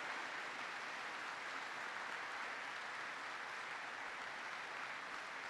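Steady, dense applause from an audience at an air force base event, filling the whole stretch at an even level without a break or audible voices.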